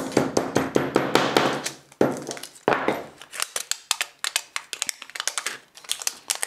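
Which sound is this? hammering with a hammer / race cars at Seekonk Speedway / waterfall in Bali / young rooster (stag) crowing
hammering with a hammer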